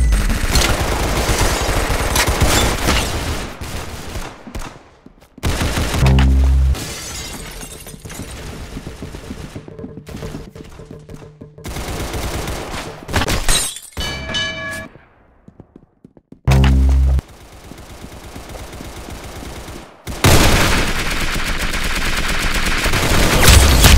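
Gunfire in the Roblox video game rings out in loud, repeated bursts and rapid volleys, with short quiet gaps between strings of shots and a few sharp isolated cracks.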